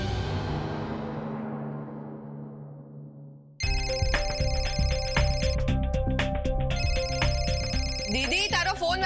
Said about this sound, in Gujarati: દીદી, તારો ફોન વાગે છે.